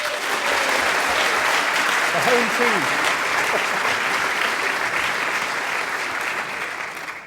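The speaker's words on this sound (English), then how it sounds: "If you would please vote by your applause for the person you believe won that debate." A large audience applauds loudly and steadily at a lecture-hall science comedy event in London, sustained clapping under a brief spoken word that fades slightly at the end.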